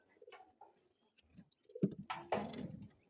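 Domestic pigeons coo softly at close range in a few low, rolling bursts, followed by louder rustling and handling noises near the birds.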